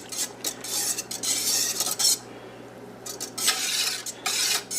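Sauce ingredients for a mother red sauce being whisked together in a bowl, giving a rapid, close, repetitive metallic scraping and swishing in bursts with short pauses, no talking.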